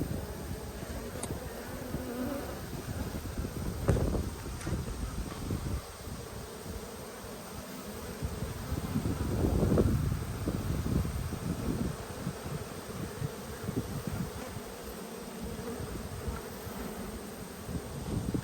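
Honey bees buzzing around an open hive during an inspection, a close, continuous droning hum with swells as individual bees pass near.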